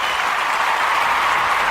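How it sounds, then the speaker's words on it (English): Audience applause, a steady wash of dense clapping from a crowd at moderate volume, unbroken and without speech for a short stretch. "So now also want to say another round of applause"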